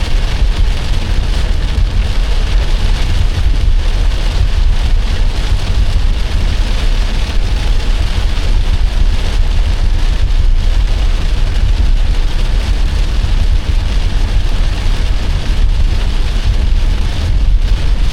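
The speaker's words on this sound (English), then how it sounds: "it doesn't seem like the rain is going to stop" Heavy rain pours steadily and loudly on a surface, a dense unbroken hiss with low rumbling underneath, continuous from start to finish.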